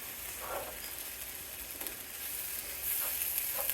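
Homemade cheese dip sizzling softly in a pan, a steady low hiss broken by a few brief scraping sounds as it is stirred and melts.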